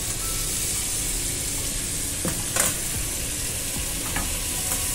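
A ribeye steak sizzles in butter in a hot pan, a dense, steady frying hiss close by, broken by a couple of soft scrapes and pops, with no one speaking.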